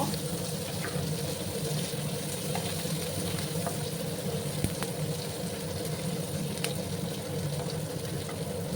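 Chopped onions fry in a pan for a lentil and taro dish, a steady close sizzle running throughout with faint clinks of stirring.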